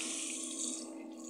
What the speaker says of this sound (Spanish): Vamos a ver si sale el agua caliente de una vez.